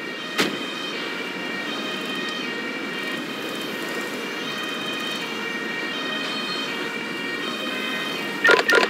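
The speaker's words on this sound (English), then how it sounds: "The ambulance is taking the casualty to the hospital ward at the base." Ambulance siren in the Emergency 5 video game, a steady wailing tone holding at moderate level across the whole stretch, with a short burst of sharper game noise near the end.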